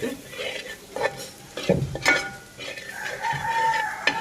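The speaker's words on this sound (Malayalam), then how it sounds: "അതിലേക്ക് നമുക്ക് കരിവേപ്പില ഇട്ട് ഒന്ന് ഇളക്കി കൊടുക്കാം" Curry leaves stirred into a thick country-chicken gravy in a Kerala kitchen, giving repeated scraping strokes over a soft simmering sizzle, fairly close, with a rooster clucking faintly in the background.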